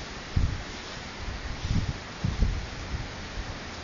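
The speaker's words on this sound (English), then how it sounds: "It's very rainy and windy now." Rain and wind on a hotel veranda open to raw nature, heard as a steady broadband hiss with low rumbling gusts swelling and fading every second or so, no voices.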